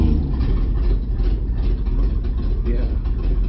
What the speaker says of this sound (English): Maybe I can just listen to the engine.